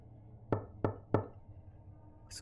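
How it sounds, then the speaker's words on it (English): Three evenly spaced, hollow knocks sound on a door in a horror video game, loud and close against a quiet, low ambient hum. "Where's the knocking come from?"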